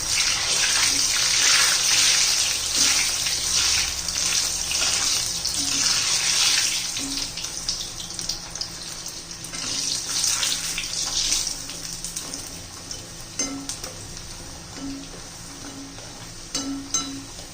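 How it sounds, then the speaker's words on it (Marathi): Banana pieces frying in hot oil, a dense, steady sizzle with bubbling hiss that is loud at first and eases slightly later, heard close with occasional small clicks. "आता सगळे पीस घालून होते एक दोन तीन मिनिट असे तळून घ्यायचे आहेत आपल्याला"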